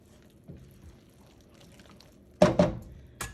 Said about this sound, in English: to thicken my sauce just a little bit, I'm gonna give this a stir